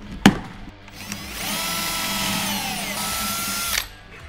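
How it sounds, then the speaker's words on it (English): A power drill whirs up and runs steadily for a couple of seconds, boring pocket holes into wood, then spins down; a sharp knock sounds just before. "let's maybe get rolling and drill your first couple pocket holes here."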